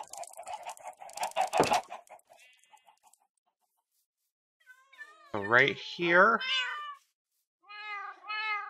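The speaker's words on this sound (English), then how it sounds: "we have a lot of cats for some reason" Cats meowing in the Minecraft video game: a few drawn-out, rising-and-falling meows close together, then another after a short pause. A person speaks briefly before them.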